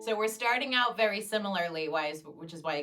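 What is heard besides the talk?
No distinct noise like a dog, phone or traffic.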